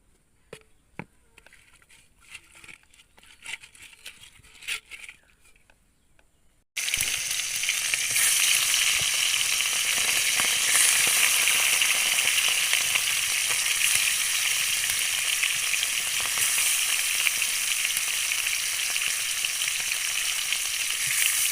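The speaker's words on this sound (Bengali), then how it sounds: "টাকি মাছগুলো ভাজা হয়ে গেছে" Thick local taki fish sizzle in hot oil in a pan. After a few quiet seconds of faint clatter, a loud, steady hiss of frying starts abruptly and runs unbroken to the end.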